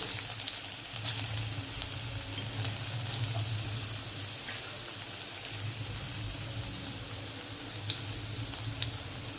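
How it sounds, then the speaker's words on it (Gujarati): Six or seven finely chopped garlic cloves sizzle steadily in hot oil with crackled cumin, a continuous close frying hiss with occasional stirring scrapes and no talking. "અહીંયા મેં લસણ લીધું છે 6 થી 7 કળી, અને આવી રીતે ઝીણું ઝીણું સમારી લીધું છે, તે ઉમેરી દેવાનું છે"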